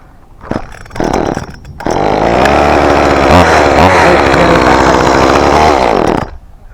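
A chainsaw cutting red pine sputters through a few short bursts, then roars at full, loud throttle for several seconds before dying abruptly as it runs out of gas.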